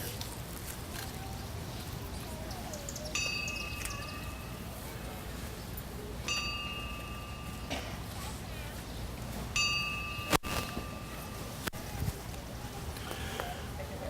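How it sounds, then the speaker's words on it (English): A fire department memorial bell tolls at an outdoor Memorial Day ceremony in Marine City, sounding three clear, evenly spaced rings a few seconds apart, each decaying slowly over steady outdoor background noise. "at this time we're going to toll the bell for all the fire personnel and all the soldiers lost in the last year"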